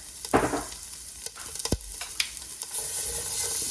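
Diced onion and pepper sizzle in a hot pan alongside seared meatballs, with bursts of stirring and scraping over a steady fry, close and fairly loud.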